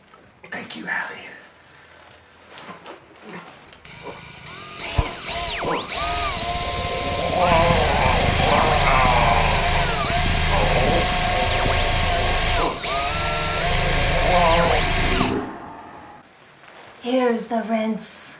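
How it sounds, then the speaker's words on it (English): A dentist's drill in a comedy skit whines loudly and continuously for about ten seconds, its pitch sweeping up and down, with a voice before and after it. "Bring the drill!"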